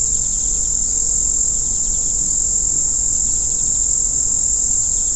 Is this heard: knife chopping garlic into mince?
no